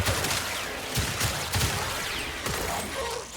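Rapid pistol gunfire in the video game Warframe, a dense stream of sharp shots with a busy game soundscape behind, loud and continuous for a few seconds without speech.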